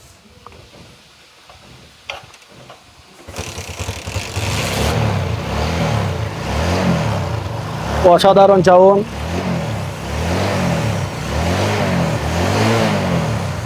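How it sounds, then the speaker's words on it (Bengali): A second-hand motorcycle engine starts and runs close by with a rough idle, swelling in repeated rev cycles and a sharper rev burst midway, while someone talks over it. "এই বাইকটি আমরা সাউন্ড কন্ডিশন একটু শোনানোর চেষ্টা করতেছি"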